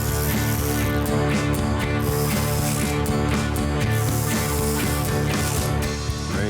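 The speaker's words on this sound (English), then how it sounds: "Now we'll need a smaller socket for these upper ones." Socket wrench ratcheting bolts down on an engine timing cover, a dense, steady run of loud mechanical clicking over a constant droning hum, with no talk.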